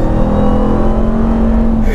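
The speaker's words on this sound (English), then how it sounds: "just hearing a supercharger whine come from a Ram truck" A 2021 Ram TRX truck with a supercharged 702 hp engine accelerates gently, its steady supercharger whine rising over a continuous loud engine drone, close and sustained throughout.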